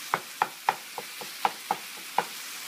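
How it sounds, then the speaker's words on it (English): A spatula scrapes and taps through ground turkey frying in olive oil in a pan. Sharp clicks come at irregular intervals, with a soft, steady sizzle running underneath. "I added some olive oil to the pan and some ground turkey, and I'm going to fry it a little bit."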